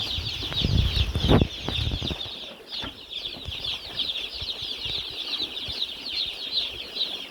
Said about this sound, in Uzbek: Hozir 3 kunlik jo'ja, 4 kunlik jo'ja ekan bugun kechasi.